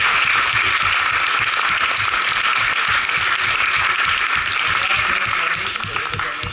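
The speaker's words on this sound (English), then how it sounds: "Let's give a round of applause for all." Steady, loud applause from a church talent show audience, continuous clapping that carries on throughout and eases slightly at the end.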